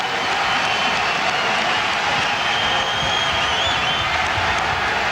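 A basketball arena crowd at a Syracuse at Rutgers men's college game roars in a steady, dense wash of cheering and clapping, loud and continuous throughout.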